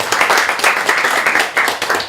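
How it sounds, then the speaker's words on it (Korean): Seated audience applause for a guest introduced at a panel discussion, a short burst of brisk, rhythmic hand clapping from a room of people, loud and fairly close. "박수."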